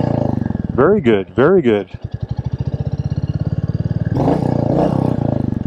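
A red Royal Enfield Meteor 350 motorcycle's single-cylinder engine idles with a steady thumping pulse, loud and close, swelling into a throatier rev near the end, with sharp voices talking over its opening moments.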